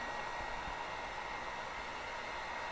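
Continuous blowing hiss of a heat gun running nearby during a Ford Edge EVAP purge valve replacement, unchanging and loud, with faint low bumps underneath.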